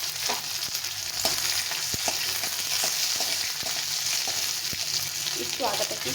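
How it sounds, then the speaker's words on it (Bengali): Crushed ginger and five green chilies frying in hot oil, a steady close sizzle with occasional stirring clicks and scrapes of a spatula throughout. "একটু আদাটাকে একটু ভেজে ভেজে নিতে হবে।"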